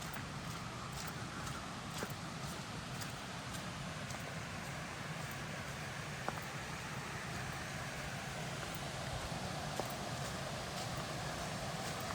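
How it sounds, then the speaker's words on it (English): Water pours steadily over a weir at the bottom of Wyming Brook in the Peak District, a constant broadband rush with no voices and a few faint clicks. "So here is the waterfall at the bottom of Wyming Brook. The weir rather, not waterfall"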